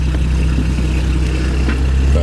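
The engine of a 1954 Sunbeam Talbot Alpine roadster runs at a steady idle, a close, even low rumble that holds throughout with no revving.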